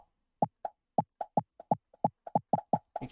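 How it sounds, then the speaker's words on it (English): Cartoonish pop sound effect from the Scratch coding program, a rapid irregular string of about fifteen short hollow plops, clean and isolated with silence between them. "You can add the pop sound, just click on it."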